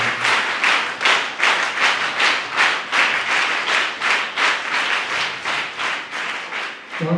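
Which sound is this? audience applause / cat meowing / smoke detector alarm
audience applause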